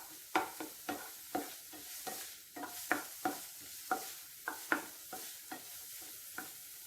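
Onions sautéing in a pan for creamy garlic chicken, a quiet background sizzle under a steady run of a dozen or more evenly spaced spatula scrapes, with no one talking.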